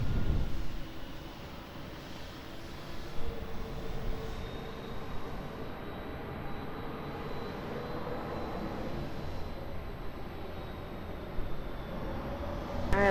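Broad, steady jet roar of an airplane at Lisbon Airport on runway 20, heard from a distance as a continuous rumbling wash with slight swells and no voices.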